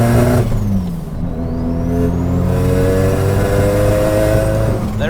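A 720bhp Mazda RX7 with a swapped-in three-rotor engine accelerates hard, its loud, close engine note climbing steadily through the revs with a buzzing, layered drone and no talk.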